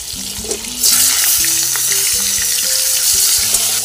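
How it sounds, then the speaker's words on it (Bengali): Potato and cauliflower pieces fry in a pan over a handmade earthen stove, producing a continuous close sizzling hiss with a faint low hum underneath and no speech. "আলু ফুলকপিগুলো ভাজা হয়ে গেছে, আমি নামিয়ে নিচ্ছি"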